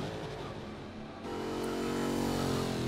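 A race car engine in a racing video game drones steadily and then jumps louder into a higher, fuller revving note partway through, with no talk.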